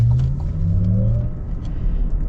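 A 2024 Cadillac Lyriq Celestial electric car accelerates, heard from inside as a loud, close road rumble and low whir that rises in pitch, with no one talking.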